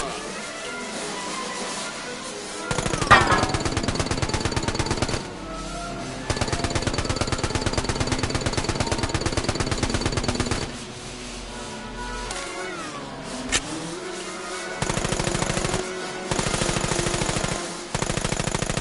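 Gunfire in The American Dream VR game: long rapid automatic bursts, loud and mechanical, broken by short pauses, with a faint voice talking in places.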